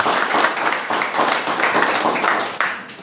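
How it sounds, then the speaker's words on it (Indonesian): A community audience claps for the host family at a Kampung Pancasila outreach event in RW 02, Tambaksari, Surabaya, a steady burst of many hands lasting a few seconds, fairly close. "Tepuk tangan dulu untuk keluarga yang berbahagia."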